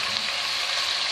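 Chicken pieces frying in oil in a pot while cooking a traditional Pakistani chicken korma, a close, steady hiss and sizzle that continues unbroken for a brief moment.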